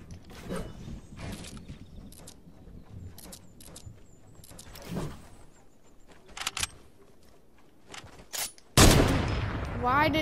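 Sniper rifle fire in a multiplayer sniper shootout game, with several sharp, scattered gunshots and a loud, close blast near the end; people's voices chat over the action.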